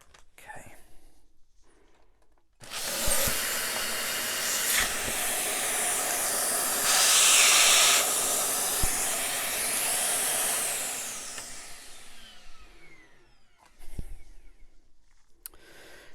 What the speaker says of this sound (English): hopefully we can catch the suction happening